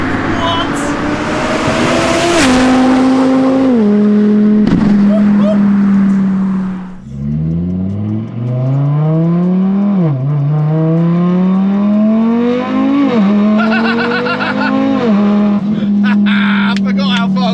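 A 1400 bhp Audi TTRS accelerates hard, its engine climbing loud and close through several gear changes with brief dips between shifts, tyres scrubbing early on, while occupants talk inside the cabin.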